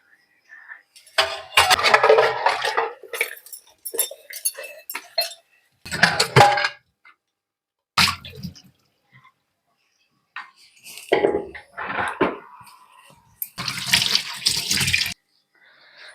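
Dishes are washed in a sink in irregular bursts of running water with clattering pots and utensils, separated by quiet gaps, and a voice can be heard between them.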